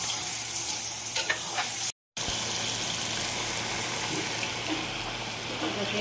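Chicken curry frying in a pan and being stirred, a steady loud sizzle with scraping stir sounds, broken by one brief gap, continuing close and unbroken otherwise.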